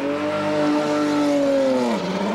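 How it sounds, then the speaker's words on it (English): An IndyCar engine hums steadily at a constant pitch, then drops sharply in tone near the end as it pulls out of the pits at the 1996 Indianapolis 500, loud and close. "listen to the car as it goes out"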